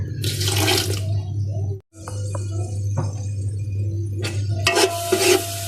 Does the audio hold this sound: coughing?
no